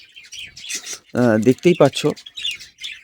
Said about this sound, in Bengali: এই যে পাখিগুলো আছে, পাখিগুলো যে বাচ্চা হয়েছে